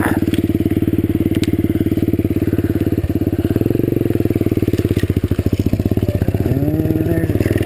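A pit bike dirt bike engine runs loud and close on an outdoor trail with a steady, rapid thrumming beat. It briefly revs higher a couple of times before settling back.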